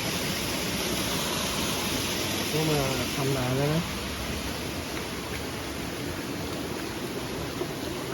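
Steady broadband rush of water flowing down an abandoned waterfall in two streams, continuous throughout, with someone speaking briefly over it.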